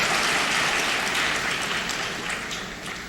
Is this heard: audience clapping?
yes